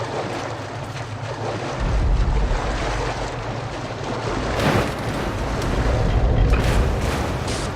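Water in the video game Metro Last Light Redux surges and washes in a broad, continuous rush, rising and falling in waves with a windy roar, loud and close with no voices.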